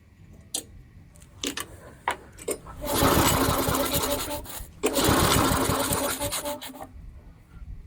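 An old lawnmower fitted with a new engine is pulled and clatters into life, first a few sharp pull-start rattles, then a loud, close, rough running drone in two bursts with a brief dip between.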